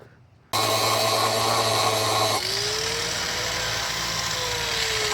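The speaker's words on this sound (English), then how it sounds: "I ground through another nut" A power tool grinds steadily through a stuck car nut on a Toyota RAV4 at a pick-n-pull yard, a loud close whine that shifts pitch partway through as the load changes.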